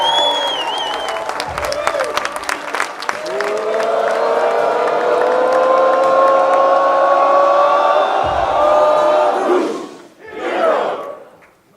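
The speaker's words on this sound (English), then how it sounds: "appreciative round of applause" A seminar audience at a wealth event claps and cheers for about ten seconds, with whoops and sustained yelling over dense applause, then breaks off and flares briefly once more before fading.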